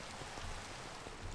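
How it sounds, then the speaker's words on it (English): Steady, dense rainfall in a Minecraft OmniFactory modpack world, a continuous hiss of falling drops with no talk over it, heard for just over a second. "I hate the rain."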